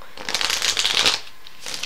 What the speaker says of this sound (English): So you can give the cards a shuffle.